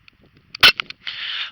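A Daisy Powerline 5501 CO2 BB pistol fires a single sharp, snappy shot outdoors during target practice, followed by a brief hiss and faint clicks.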